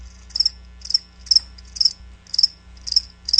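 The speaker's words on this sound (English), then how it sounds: "That's right, crickets." Crickets chirp in steady, evenly spaced bursts of rapid high trills, about seven pulses over a low constant hum, with no voices.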